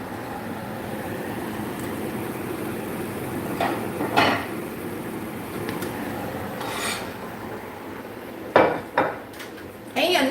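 Cooked breakfast food being flipped out of a pan onto a dish in a home kitchen, with scattered clinks and clatters of metal and dishware over a steady background hiss.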